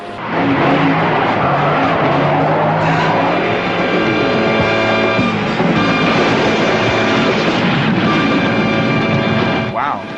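A van skids on an oil slick spilled from a rigged tanker truck on a mountain detour and spins off the road, with loud tire squeal and engine roar running continuously under a busy film soundtrack.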